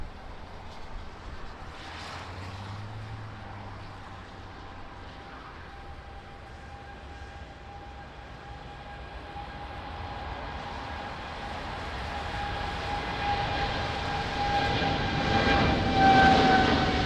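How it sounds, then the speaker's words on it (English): A Boeing 787 of Etihad takes off at Lisbon Airport in the rain, its engine roar building steadily from a distant rumble to a louder, closer drone with a rising whine over a rainy background. "So beautiful Etihad taking off, 787."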